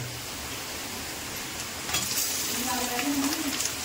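Chicken pieces dropping into a pan of fried onions, a constant sizzle that swells sharply into louder frying and hissing partway through, with a few utensil scrapes close by.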